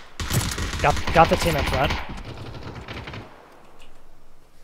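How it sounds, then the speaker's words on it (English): Rapid bursts of video game gunfire crackle loudly in the first half of a team shooter match, overlapping a player's talk, then fade out. "There's something behind us shooting at us."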